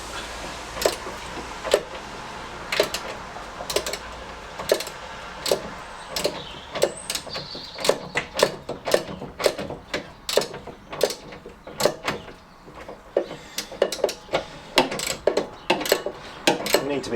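A socket wrench works a bolt on a classic Fiat 500 engine being refitted, giving a long run of sharp ratcheting clicks in irregular bursts with brief pauses, close and fairly loud.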